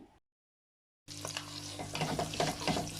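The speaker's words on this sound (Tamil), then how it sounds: "இப்போ கருவேப்பிலை, பச்சை மிளகாய், பூண்டு போட்டுடலாங்க" Curry leaves, green chillies and garlic hit hot oil after a brief silence, bursting into a loud, close, crackling sizzle that keeps spitting and popping steadily.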